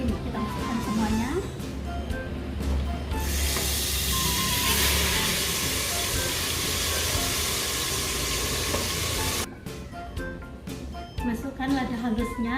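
Blended spice paste for a beef steak dish hits a hot pan with a loud, steady sizzle that lasts several seconds, then cuts off. Kitchen noise and voices are heard before and after it.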